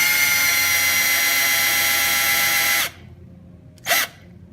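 A cordless drill spins copper wire clamped in a vise to straighten it for 18650 battery busbars. A loud, steady motor whine runs for about three seconds, stops abruptly, then returns as one short burst.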